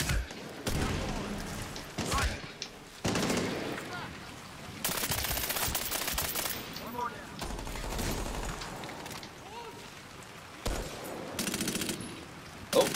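Rapid bursts of automatic gunfire from a teammate in the video game Medal of Honor Warfighter, loud repeated volleys separated by brief gaps, with chatter and other game sounds mixed in.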